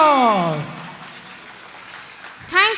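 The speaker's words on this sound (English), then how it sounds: "big round of applause" Audience applause at a community stage event celebrating Utkal Divas, a short burst of clapping that swells and fades, mixed with voices and a loud amplified announcer speaking over a PA.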